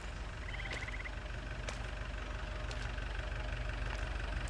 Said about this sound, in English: Why does that sound like a tank idling?